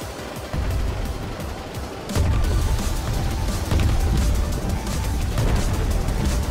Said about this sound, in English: I'm about to grab the cannon on the red ship and shoot an Ant ship from it.